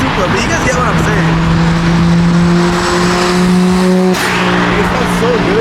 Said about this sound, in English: It sounds like a Supra, like it's crazy. It is a Supra